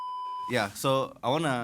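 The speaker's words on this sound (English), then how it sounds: "before your phone started ringing" A mobile phone rings with a steady electronic tone for about half a second before people start talking over the end of it.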